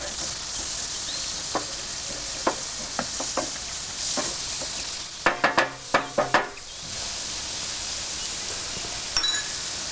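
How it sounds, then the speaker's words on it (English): Teaspoon of Dijon mustard being stirred into a sizzling creamy mushroom sauce in a pan, with a soft steady sizzle, scattered scrapes and a quick run of utensil clinks against the pan near the middle. "To the sauce, I'm adding a teaspoon of Dijon mustard and stirring it well in."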